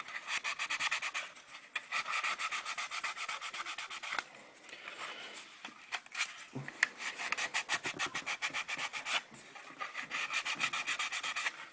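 Sanding along the edges of a plastic scale model aircraft part, a close, rapid back-and-forth rasping in sustained bursts with brief pauses between strokes, and no one speaking.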